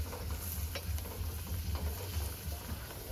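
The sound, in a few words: sauteing vegetables for lo mein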